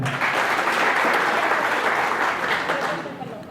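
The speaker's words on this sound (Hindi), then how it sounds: "इस चिप के लिए जोरदार तालियां बजाएं" Loud applause fills a wellness products seminar hall, dense and steady for about three seconds before easing slightly at the end, with some voices mixed in.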